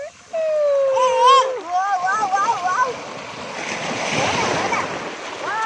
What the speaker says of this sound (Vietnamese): Wow, sóng cao kìa, sóng cao vô rồi.